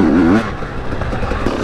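A two-stroke motorcycle engine revs near and loud at an outdoor riding spot, a brief raspy wail that drops into an uneven idling rattle.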